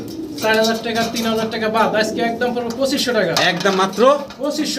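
Carrier homer pigeons at a pigeon sale coo repeatedly at close range, layered over one another, with people talking in the background.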